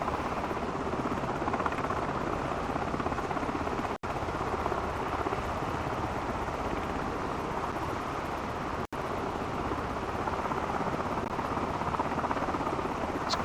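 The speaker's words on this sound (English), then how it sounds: "Quite turbulent too for a small plane like this." Small propeller plane engine droning steadily inside a flight simulator game, a dense continuous rumble with broadband wind-like hiss, loud and unbroken apart from two brief dropouts.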